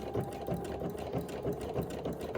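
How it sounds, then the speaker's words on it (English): Sewing machine stitches a small zigzag along a healthcare headband, its needle running in a fast, steady mechanical rhythm close up with no pauses. "So I'm just going to start to sew."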